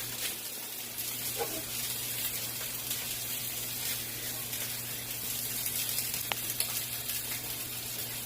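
A handful of regular spaghetti goes into a pot of boiling water and is stirred: a steady, close bubbling rush over a low electrical hum, with a few faint knocks and no talking.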